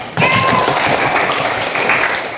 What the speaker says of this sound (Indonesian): Berarti tepuk tangan untuk semuanya.